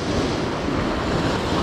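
Ocean waves surge and wash continuously onto a shore during a fishing outing, a dense steady roar of surf with wind buffeting the microphone and no voices.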